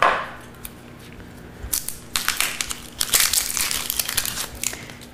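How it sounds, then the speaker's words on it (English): An onion being peeled by hand, its papery skin crackling and crinkling in close, quiet bursts of dry rustling that grow busier toward the end. "Peeling the onion"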